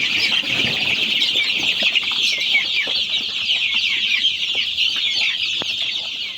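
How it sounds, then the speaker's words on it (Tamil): Dense, continuous cheeping and clucking from a crowd of one-month-old Sonali breed chicks on a poultry farm, loud and close with no talk over it. "இது எல்லாமே சோனாலியில் 1 மாத குஞ்சு 30 நாள் கம்ப்ளீட் ஆனதுண்ணா"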